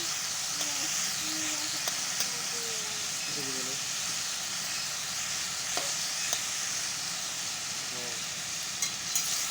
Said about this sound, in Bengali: পেঁয়াজগুলো দিয়ে নিলাম একটু নাড়াচাড়া করে দিচ্ছি